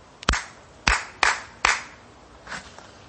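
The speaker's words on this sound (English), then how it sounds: "Okay, I'll do a little clapping," Hand clapping by one person: five sharp, close claps in a loose, uneven rhythm with a quiet pause before the last, softer one, no talking.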